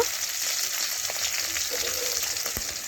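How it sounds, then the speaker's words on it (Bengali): Fish bones frying crisp in hot oil, a steady close sizzling hiss throughout with faint pops and a couple of sharper crackles near the end. "চার পাঁচটা একদম মচমচে করে আমি ভেজে নেব"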